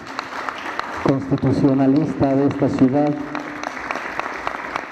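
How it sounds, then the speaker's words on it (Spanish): Audience at a city constitutional process event applauding, a steady clapping crowd throughout with a voice speaking over it in the middle. "Un fuerte aplauso"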